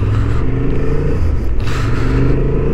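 A 2023 Honda XL750 Transalp motorcycle accelerating hard in sport mode on a racetrack, with a loud, continuous engine drone and rushing wind noise close to the rider, the pitch shifting as it pulls.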